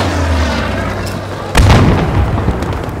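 Gunfire in the first-person shooter Battlefield 5: a steady low rumble of distant artillery and shooting, then a loud, close burst of gunshots about halfway through, with crackling fire continuing after it.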